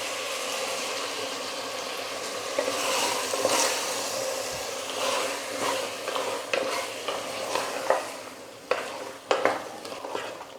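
Ground masala paste being stirred and sautéed in a pan for a white chickpea kurma: steady frying sizzle with repeated scraping stirs that grow sharper and more frequent toward the end, close up, with no talking.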